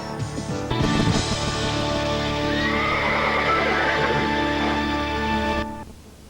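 A ranch horse used for cattle sorting gives a loud, long whinny close by. The call rises, holds for several seconds with a quavering tone, then cuts off abruptly.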